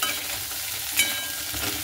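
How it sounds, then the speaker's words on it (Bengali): Cauliflower fries in oil in a wok, giving a continuous close sizzle with light crackling and a brief stirring clink. "ফুলকপিটাকে কিন্তু আমি খুব ভালো মতো করে ভেজে নিয়েছি"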